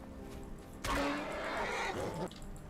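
A summonable horse in a fantasy video game lets out a single loud whinny lasting over a second, with faint hoof clops around it and no talking.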